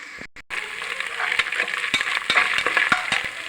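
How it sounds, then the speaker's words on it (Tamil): Onion, ginger and garlic sauté in hot oil for a chicken curry, a close, lively crackling sizzle broken by repeated spatula scrapes and taps after a brief quiet start, with no one speaking. "வெங்காயம் போட்டு கொஞ்சம் வதங்கினதுனால இஞ்சி பூண்டு போட்டு வதக்குது"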